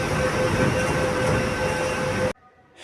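A Kolkata metro train runs between Sealdah and Howrah with a loud, steady rumble and rail roar from inside the carriage, which cuts off abruptly near the end and leaves quieter ambience.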